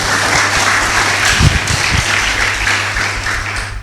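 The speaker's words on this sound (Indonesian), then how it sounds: "Berikan tepuk tangan buat Tuhan." A church congregation at a Pentecost service in Indonesia bursts into enthusiastic applause, dense clapping filling the room for several seconds with a few sharper claps and cheers mixed in, over a low steady hum.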